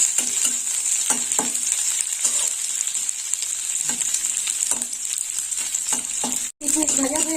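Raisins briefly fry in white oil in a wok, a continuous bright sizzle broken by irregular spatters and a few utensil taps, with one momentary dropout near the end.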